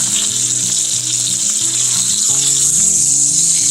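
A New York strip steak sautés in a hot pan, giving a steady, close sizzle and fry hiss throughout, with a low tonal hum running underneath.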